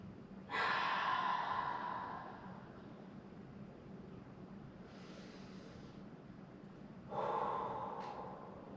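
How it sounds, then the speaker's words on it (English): Two deep breaths during a yoga barre workout: a long audible inhale, a quieter exhale, then another strong inhale, close to the microphone with no talking. "Let's take 2 big breaths here."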